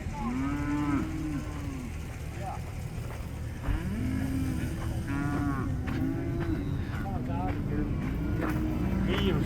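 A big herd of cows on a road in rural Wyoming lows in long, drawn-out moos, several overlapping near and farther off over a steady engine-like rumble and outdoor noise.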